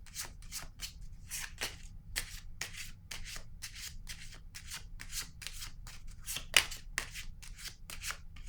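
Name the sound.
placing a tarot card on the table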